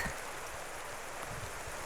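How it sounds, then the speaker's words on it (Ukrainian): Heavy rain pours steadily over a garden of daylily plants, a dense, even hiss of drops with no talking. "а дощ періщить"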